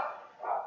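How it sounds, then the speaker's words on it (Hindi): A dog barks outdoors: two quick, close barks in rapid succession, heard alone. "वो डॉगी मेरा बाहर भौंक रहा है।"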